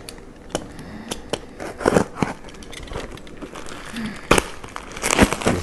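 Outer plastic cover of a small package being cut open and handled, close crinkling with sharp snips and rustles scattered irregularly throughout.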